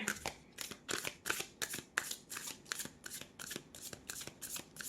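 A deck of gypsy fortune-telling cards is shuffled again and again in quick, rhythmic riffling bursts, about a dozen in a row. The sound is close but fairly quiet.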